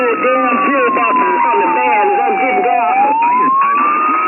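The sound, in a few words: emergency vehicle sirens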